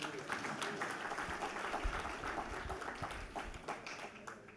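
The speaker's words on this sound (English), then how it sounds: "Another round of applause, please." After a university distinguished lecture, an audience claps in a hall, a fairly quiet, even patter of many hands with a few sharper individual claps standing out.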